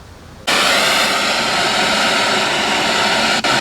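Spirit box radio sweep played through an external speaker in a cemetery at night, a loud, steady broadband static hiss that bursts in abruptly after half a second and holds continuously with a brief dip near the end.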